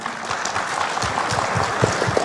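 An audience at the opening ceremony of a pediatric medical conference in Makassar applauds for the child specialists, producing a dense, continuous wash of clapping with a few louder hand claps near the end.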